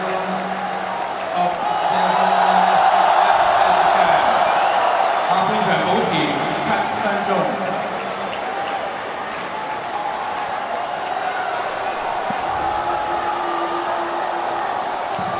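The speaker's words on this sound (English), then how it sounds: "affording the crowd the opportunity to cheer him from the field of play" A stadium crowd cheers and applauds Cristiano Ronaldo as he leaves the field during an Al Nassr match, a broad, sustained roar with whoops that swells and then holds steady beneath a commentator's voice.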